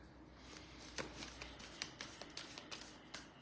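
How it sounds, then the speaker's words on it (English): Oracle cards being shuffled by hand, a run of soft papery riffles and slaps repeating at a quick, uneven rhythm, close and fairly quiet with no voices. "when I was shuffling the cards"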